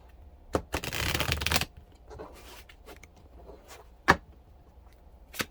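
Tarot cards are shuffled close up: a dense riffling burst lasting under a second, then scattered softer card slides and sharp single snaps, with quiet gaps between.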